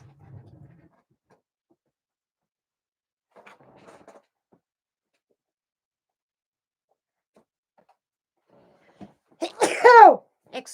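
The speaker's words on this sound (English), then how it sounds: "Oh, excuse me, I had to sneeze." A single sharp sneeze bursts out near the end, loud and close, after a long near-silent stretch with a few faint rustles.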